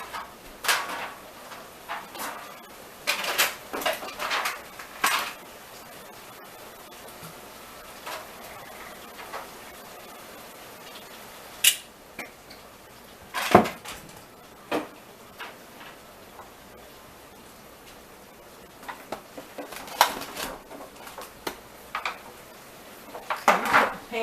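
Cookware handled at a stove while a Southern soul food Sunday dinner is prepared: scattered metallic clanks, taps and clinks of a pan and utensils, close by, between quiet stretches.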